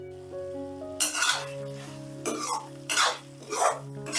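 A spoon stirs spiced masala with kasuri methi in a pan for a dhaba-style dry aloo bhindi, giving several short scraping strokes over a faint sizzle and background music, with no talking.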